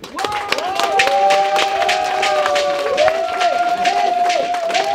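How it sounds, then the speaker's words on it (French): Audience at a Paris campaign event for a Côte d'Ivoire presidential candidate breaks into loud, continuous applause and cheering, dense clapping under sustained crowd voices and a wavering tonal sound, filling the room throughout. "On applaudit très fort, Madame."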